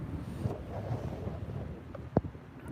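Wind gusts buffet a microphone outdoors on a January morning walk, a continuous low rumbling roar with one sharper gust near the end and no talking.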